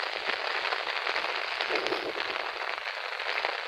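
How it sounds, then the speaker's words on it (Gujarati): Heavy monsoon rain with strong wind in Keshod taluka, Junagadh district, Gujarat, a dense, steady roar of downpour hissing without pause throughout, close and loud. "એવો પવન અને વરસાદ છે ભાઈ"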